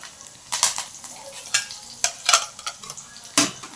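Curry leaves sizzle and crackle in hot oil in a pan, sharp spitting bursts popping irregularly over a quiet frying hiss, with occasional clinks of a spoon.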